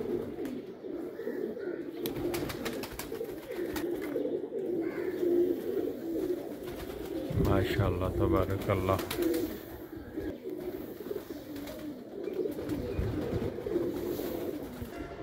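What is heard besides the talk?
pigeons cooing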